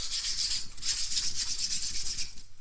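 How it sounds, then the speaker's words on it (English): Sandpaper rubbed back and forth over a plastic action figure flight stand, a close, continuous rasping scrape with a rhythmic swish, alone. "I like to sand somewhat before while it's all straight"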